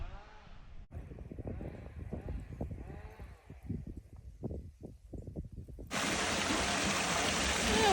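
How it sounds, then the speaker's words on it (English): Running stream water along the Rob Roy Way between Drymen and Aberfoyle in Scotland, its steady broad rush rising loudly near the end after a quieter stretch of scattered animal bleats and rustling. "Yeah, we've got some running water today."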